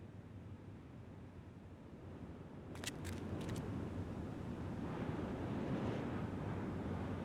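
Water in The Book of Unwritten Tales 2 video game, a steady broadband wash like surf or rushing water that swells slightly louder after a few seconds, with a few brief faint clicks near the start.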